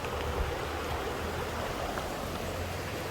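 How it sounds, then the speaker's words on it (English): Continuous broadband rush of a river flowing near Portland, steady and even without breaks, heard alone. "we are going on the river here now"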